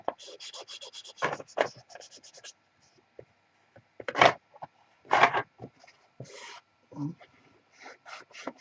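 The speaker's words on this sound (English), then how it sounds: "More sanding here." Hand sanding of a surface during touch-up work, heard as bursts of close, scratchy rubbing strokes with pauses between them, alongside occasional speech.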